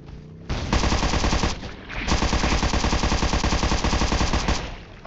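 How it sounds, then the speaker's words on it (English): Gunfire in the video game Undawn, on a zombie radiation island: two loud, rapid automatic bursts of rattling shots, split by a brief pause, with no talk over them. "I don't understand why nobody's shooting him."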